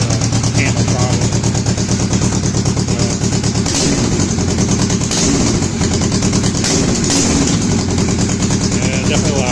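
A 2020 Kawasaki Vulcan S Cafe fitted with an AliExpress aftermarket exhaust runs loud and close, giving a continuous deep, throbbing engine note with a few throttle swells.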